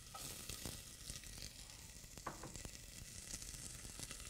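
Chopped onion sizzles steadily in a hot pot as a risotto base, a dense continuous frying hiss with small crackles and occasional stirring clicks, close and fairly loud with no voices.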